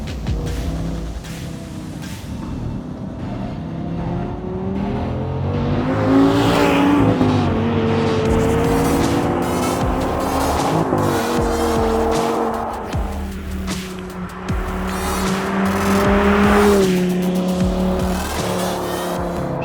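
An Audi R8 with a 525-horsepower V10 corners hard on a track, its loud engine howling through rising and falling revs while tires squeal in long stretches, close and continuous with no talk.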